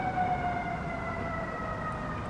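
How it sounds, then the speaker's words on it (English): Emergency vehicle siren in Philadelphia, a distant wailing tone with steady pitched lines over low street rumble, fairly faint and continuous for the whole moment. "in Philly, that's all you hear is ambulances and police."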